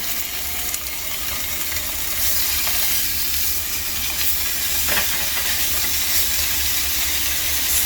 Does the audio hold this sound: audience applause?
no